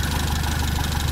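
A car engine fitted with Bosch Platinum spark plugs idles steadily, a loud, even, continuous low rumble close to the listener, with no voices.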